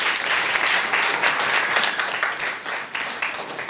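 A congregation applauds during a Sunday church service, dense steady clapping close and loud that gradually thins toward the end.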